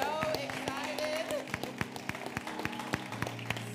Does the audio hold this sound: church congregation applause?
yes